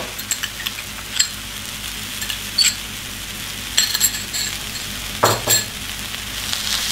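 A pan of sauce with oyster sauce, pepper, sugar and salt is stirred over the heat, giving a steady close sizzle broken by scattered metal clinks and scrapes of the utensil against the pan.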